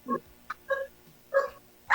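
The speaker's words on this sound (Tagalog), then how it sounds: "mga aso po yun, sir. Aso. Tumatahol, oh." Dogs give several short, high yipping barks in quick separate bursts, close and loud, with no talking.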